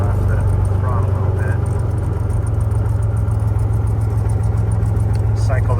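Aircraft piston engine throttled back to idle, fitted with a GFC 500 autopilot during a startup failure, holding a loud, steady low drone with a constant rumbling pulse throughout.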